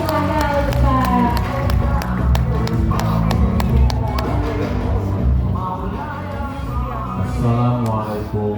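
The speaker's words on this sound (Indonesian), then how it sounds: "Boleh kita berikan tepuk tangan yang meriah untuk Tuan Guru Ustaz Abdul Somad" A crowd claps to welcome Ustaz Abdul Somad at an Islamic gathering; scattered sharp hand claps ring out over loud music and crowd noise for several seconds.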